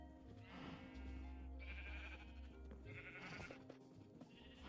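Sheep bleating in a video game: several loud, close wavering bleats follow one another, with a steady low hum underneath.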